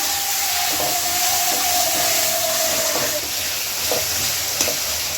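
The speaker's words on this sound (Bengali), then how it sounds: "টমেটোটা একটু ভেজে নরম করে নিই।" Tomatoes and onions fry in oil with a constant dense sizzle, accompanied by repeated scraping and stirring strokes in the pan and a faint tonal hum.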